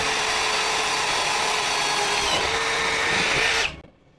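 A DongCheng 12V cordless brushless impact drill bores through a 4 mm steel plate at low speed, a loud steady whining grind under heavy pressure that cuts off sharply near the end.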